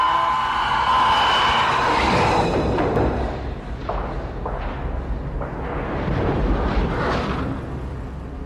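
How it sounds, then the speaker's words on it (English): A torpedo strikes a submarine and explodes underwater, a deep, heavy rumbling blast that swells and rolls on, followed by dull thuds and echoing booms fading into a low roar. "Torpedo impact."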